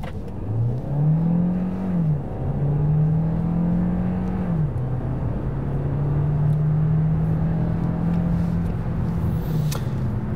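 Hyundai Tucson hybrid, facelift model, accelerating hard in sport mode: a loud, steady engine note climbs in pitch, dips briefly at a gear change near two seconds, then rises again smoothly through a long continuous pull, with no talking.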